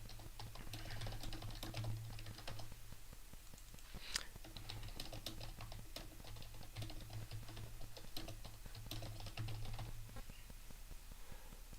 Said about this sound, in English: I think I've almost done typing